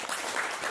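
A brief, soft burst of audience applause at a motivational talk, distant and even, lasting under a second.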